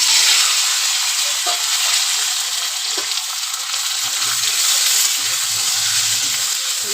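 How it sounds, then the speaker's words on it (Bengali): Potatoes and drumstick pieces fry in hot oil seasoned with black cumin, giving a steady, loud sizzling hiss throughout, with occasional soft stirring scrapes and pops beneath. "আমি কড়াতে তেল ছিল, তেলের মধ্যে কালো জিরে ফোড়ন দিয়ে দিলাম। কেটে রেখেছি আলু আর সজনে ডাঁটা দিয়ে দেব।"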